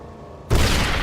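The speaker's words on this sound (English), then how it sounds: "Flashbang. Flash out." A flashbang grenade in Fallout: New Vegas detonates with a single sudden loud boom after a moment of quiet, and its broad roar hangs on to the end.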